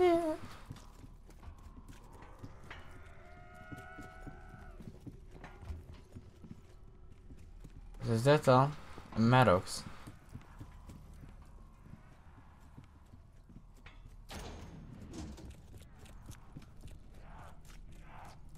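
Horse hooves in Call of Duty Black Ops 4 Zombies clop in short bursts, with a couple of louder stamping moments and a possible whinny, amid game effects and someone talking.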